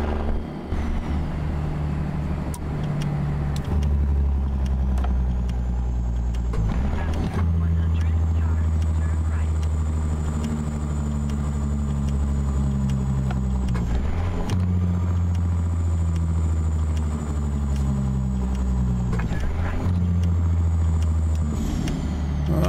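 A heavy truck engine in American Truck Simulator drones loud and continuous, pitch stepping down through a sequence of downshifts, with faint high whines and small clunks at each gear change.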